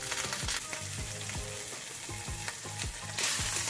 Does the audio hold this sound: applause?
no